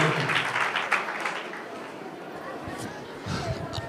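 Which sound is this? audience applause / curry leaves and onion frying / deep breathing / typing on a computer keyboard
audience applause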